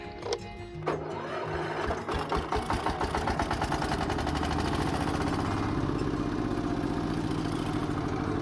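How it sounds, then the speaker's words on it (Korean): A two-wheeled power tiller on a Korean farm, loaded with a full water tank, catches after a brief start and settles into a close, loud, steady chugging run with regular rapid pulses. "경운기 시동을 걸고 출발하겠습니다."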